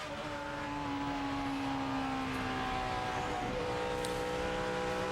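NASCAR Sprint Cup race cars in final practice at Dover, with Dale Earnhardt Jr.'s car struggling for grip on a hot track: a steady, loud engine roar with sustained high whining tones that shift pitch as cars pass, no voices.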